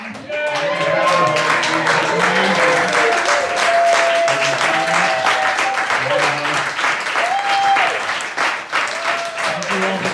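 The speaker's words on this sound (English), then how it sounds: "these guys deserve an extra round of applause" Sustained audience applause and clapping at a comedy show fill the room loudly, with cheering voices and crowd chatter mixed in and a short stretch of someone talking above the clapping.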